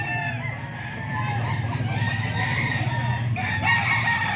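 Banded gamefowl stags at a roadside sale in San Jose del Monte, Bulacan, with a rooster crowing and several birds clucking close by over a steady low background hum.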